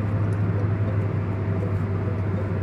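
Steady traffic roar of trucks and cars on the duplicated Serra do Cafezal highway in São Paulo, with a continuous low engine drone and tire rumble heard from inside a moving vehicle at about 60 km/h.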